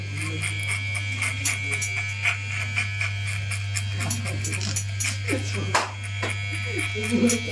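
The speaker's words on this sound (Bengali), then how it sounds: "মেশিনটা একটু অ্যাঙ্গেল করে চালাচ্ছি আমি" An electric hair clipper buzzes continuously and close up, held at an angle while cutting an army haircut; the steady motor hum dips briefly near the end.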